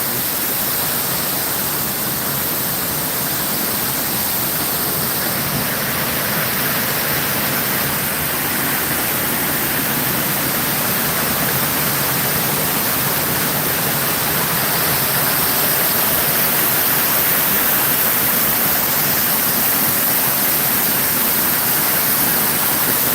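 Water fountain splashing with a loud, dense, continuous hiss, steady and close for the whole stretch with no voices over it.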